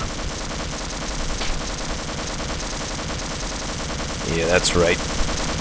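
Automated turret firing in Half-Life, rapid continuous gunfire rattling throughout at an even pace, with a louder burst of impacts near the end, under someone talking.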